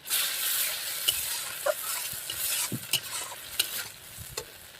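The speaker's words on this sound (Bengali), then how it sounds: "তো এবার আমি মশলাটা ভালো করে কষিয়ে নেব।" Spice paste with turmeric fried and stirred in a pan for a whole fish curry, steady close sizzling with scattered scraping stirs and clinks, no voices.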